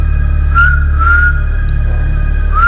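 A person whistling with the mouth to imitate a mysterious whistle heard at home, several short rising tones separated by pauses over a steady low hum.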